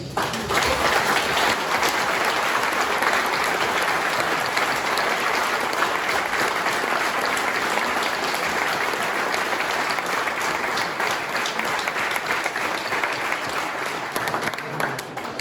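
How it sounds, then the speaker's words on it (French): Long, steady applause from a crowd at a Volvo Club de France anniversary gathering with Volvo Car France, partners and exhibitors, a dense continuous clapping wash with some voices underneath. "que tout le monde applaudisse"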